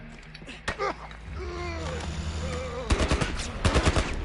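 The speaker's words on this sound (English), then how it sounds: "Some kind of military turret." A military turret fires in The Last of Us. A voice talks first, then rapid, loud automatic bursts crackle in quick succession near the end.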